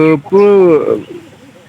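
A pigeon gives one drawn-out, throaty coo close by, trailing into softer murmuring sounds.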